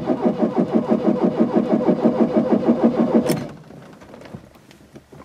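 Starter cranking a VW Rabbit diesel engine in a fast, even rhythmic churn for about three seconds without catching, then stopping abruptly and leaving quiet clicks and rustling.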